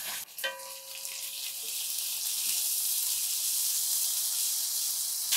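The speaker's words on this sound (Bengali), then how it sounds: "আদা রসুনটাকে একটু ভেজে নিলাম" Ginger and garlic paste, a tablespoon of each, drops into a hot pan with browned onions, a brief clatter quickly giving way to a loud, steady frying sizzle and hiss.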